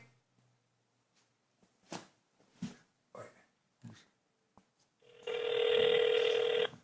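A telephone ringing while calling someone, a single loud electronic ring tone starting after several faint scattered knocks and breaths, close and without talk.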